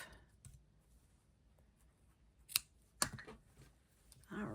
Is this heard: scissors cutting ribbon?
yes